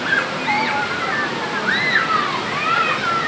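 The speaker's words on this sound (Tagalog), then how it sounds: "Ayun yung falls." Broadband rushing water from a low waterfall at Tinandayagan Falls resort in Libmanan, Camarines Sur, steady and fairly loud, with faint bird chirps and whistles weaving above the constant roar.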